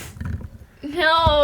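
A person imitates a big cat's roar with their voice, a short rising growl that follows a brief spoken word from another voice, loud and close.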